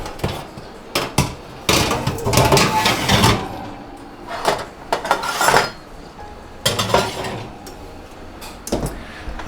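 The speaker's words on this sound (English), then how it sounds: "I also want to adjust this shelf for my rolls" A metal oven rack clanks and rattles as a shelf is pulled out, repositioned and slid back in a home kitchen oven, with irregular bursts of sharp clinks and scraping metal, close and loud, separated by brief pauses.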